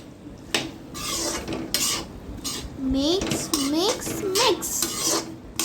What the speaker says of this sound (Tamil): நல்லா மிக்ஸ் பண்ணிக்கணும்.